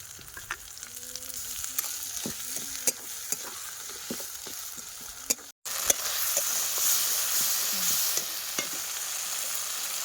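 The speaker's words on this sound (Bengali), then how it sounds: "এই দেখো পেঁয়াজটা লাল লাল করে ভাজা হয়ে গেছে।" Onion frying in a pan with cumin and chilli paste, a continuous close sizzle broken by repeated scraping stirs of a spatula, with a brief dropout midway and no talk.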